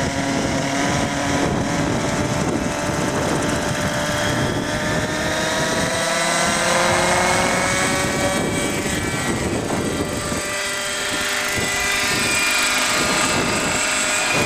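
A small engine on a gasoline RC helicopter drones steadily and loudly throughout, with a high buzzing whine that shifts slightly in pitch, close by.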